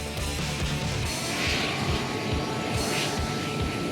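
Steady broadband roar of a Canadian North jet airliner cabin cruising at 36,000 feet, a constant near engine and airflow drone with faint low thumps and no talk.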